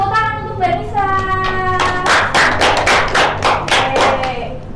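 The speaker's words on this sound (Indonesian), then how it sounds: "Beri tepuk tangan untuk Mbak Nisa." A classroom of primary pupils claps for a classmate after her correct answer, a burst of dense rapid hand claps rising from about two seconds in, following a brief stretch of children's voices.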